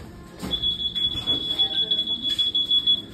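A store's anti-theft security gate gives a steady high-pitched electronic beep that runs unbroken for a few seconds as people talk nearby.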